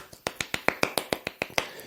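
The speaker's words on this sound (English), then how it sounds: "Golf clap." Soft, slow hand clapping in the style of a golf clap: about ten light, evenly spaced claps, close and quiet, with no talk over them.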